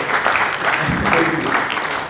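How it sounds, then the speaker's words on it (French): A crowd at a congress of Protestant laity claps steadily in a dense wash of applause, with a voice briefly audible underneath. "Applaudissez très fort,"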